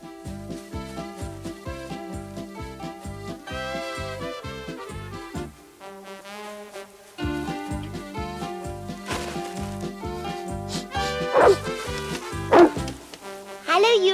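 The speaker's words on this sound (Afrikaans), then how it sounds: "Dit is nou die tweede keer dat jy jou neus in my hooi steek en blaf." A dog in an animated Heidi cartoon episode gives a few short yips and barks near the end, over loud plucked music, with characters speaking.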